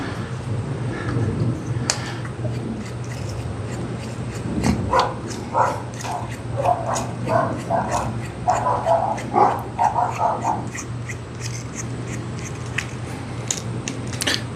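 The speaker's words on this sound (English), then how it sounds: "Doggo's barking." A dog barks repeatedly at a distance outdoors, a string of sharp barks under steady background noise and occasional clanks from assembly work on a dredge.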